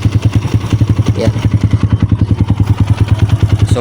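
A Kawasaki KLX 150 motorcycle engine, freshly overhauled with a new connecting rod and bearings, runs loud and close at a steady idle, its fast even putter pulsing without a break and no voices over it.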